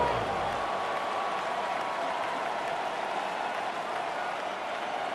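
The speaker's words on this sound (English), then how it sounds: "This crowd into it now as we get to 3rd down." A stadium crowd in Madden NFL 26 roars in a steady, dense wash of cheering and applause that holds at an even level throughout, with a commentator talking over it.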